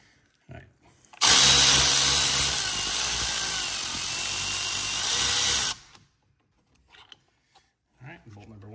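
A power tool loudly drives out the front brake caliper bolts on a Porsche Macan Turbo during a brake pad and rotor job, one sustained whirring burst of about four and a half seconds between quieter moments of workshop talk.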